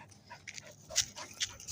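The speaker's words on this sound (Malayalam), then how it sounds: "ദൂരത്ത് നിന്നൊരു നായ കുരയ്ക്കുന്നുണ്ട്" A dog out on a walk gives a few short, faint yips and whimpers at a distance, separated by quiet gaps.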